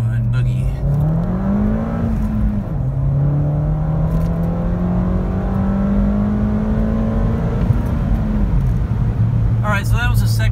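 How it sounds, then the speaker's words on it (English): A Ford Fiesta ST with an X47 turbo, running race gas concentrate, accelerates hard in second gear: a loud, steadily rising engine drone climbs in pitch, drops briefly at a shift, then climbs again before settling, with talk over parts of it. "So I'm gonna pop it into second gear and floor it here gently"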